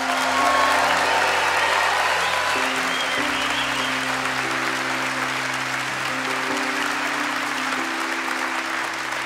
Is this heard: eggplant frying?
no